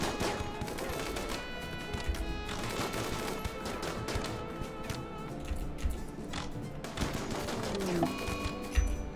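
Scattered gunfire in a colony-building video game from raiders shooting as they retreat, repeated short cracks and bursts over a busy game soundscape, fairly loud, with little talk.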